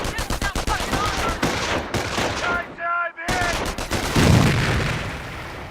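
Rapid machine gun bursts and heavy booms fill a Company of Heroes World War II battle, with an MG-42 rattling in quick close volleys, a brief silence, then a grenade blast followed by more firing and a narrator speaking underneath.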